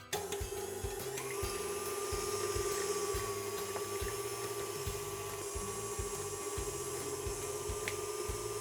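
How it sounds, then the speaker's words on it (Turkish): An electric mixer fitted with a whisk whips cream for semifreddo, giving a steady high motor whine with a rhythmic low churning pulse, continuous and fairly quiet with no talk. "önce orta devirde daha sonra yüksek devirde kremam tamamen kıvam alana kadar yaklaşık 2-3 dakika kadar çırpacağım"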